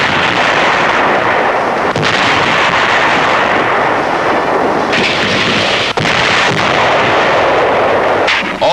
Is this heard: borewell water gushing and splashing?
no